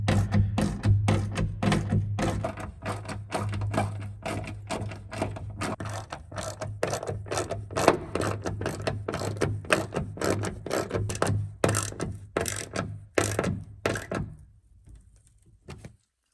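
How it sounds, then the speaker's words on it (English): Screws being driven into a truck camper fitting, a close run of rapid ratcheting clicks and mechanical taps in irregular bursts that fade out near the end. "So there is that piece all screwed in."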